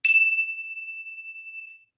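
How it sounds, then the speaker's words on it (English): A single bell is struck once during a family yoga and mindfulness session, giving a bright, clear ding whose pure ringing tone fades slowly over nearly two seconds before silence. "I'm going to ring the bell like this"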